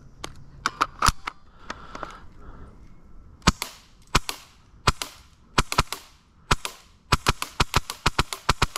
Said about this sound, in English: It'll probably sound insanely crazy with all the actual BBs like hitting the riot shield when you're behind it.